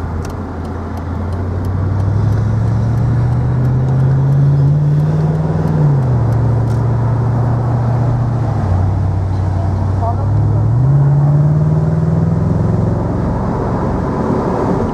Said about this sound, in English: we'll just give you a buzz of the road in this low mileage SL55 AMG